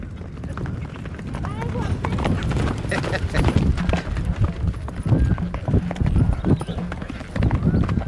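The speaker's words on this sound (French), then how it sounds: "Ils sont spectaculaires les chevaux." Several horses trotting with brisk, continuous clip-clop hooves close by, and a snort or whinny mixed in.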